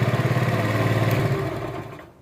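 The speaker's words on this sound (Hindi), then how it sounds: "ये चेक कर सकते हैं मोटरसाइकिल बिल्कुल स्टार्ट हो गया है।" A Bajaj Pulsar motorcycle engine idles close by with a steady pulsing thump, then is switched off and the sound dies away over the last moment.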